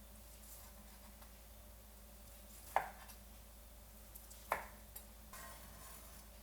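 A knife slices through tender braised chashu pork on a board, giving two quiet, separate cuts a couple of seconds apart against faint room hum.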